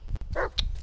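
A dog companion barks in the Blair Witch video game, a couple of short close yips and barks set against a quiet forest backdrop.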